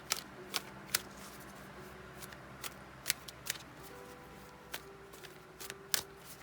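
Tarot cards are shuffled close by, a run of crisp riffles and soft slaps repeating irregularly through the quiet, with no one talking.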